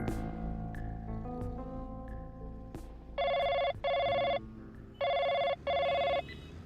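A telephone rings in two pairs of loud electronic trills after quieter ambient tones, each pair made of two short bursts with a brief gap, heard alone without speech.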